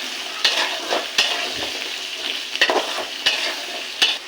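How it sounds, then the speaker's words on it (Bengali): Potatoes fry in hot oil with bay leaf and whole cumin, a steady close sizzle broken by several sharp clicks and scrapes of a spatula stirring the pan, with no voices. "তেজপাতা ফোড়ন দেবো গোটা জিরে দেবো আলু আলুটাকে ভেজে নেবো"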